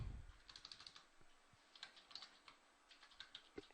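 Someone types a search into a computer keyboard, making quick, light clicking keystrokes in short bursts with brief pauses between them. The keys sound close but faint, in a quiet room with no speech.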